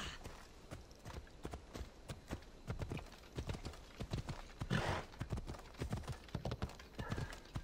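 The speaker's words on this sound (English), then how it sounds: "Come on, horsey." A horse in the video game Assassin's Creed Odyssey gallops with rapid, uneven clip-clop hoofbeats that continue throughout, with a neigh midway. The sound is fairly quiet and close.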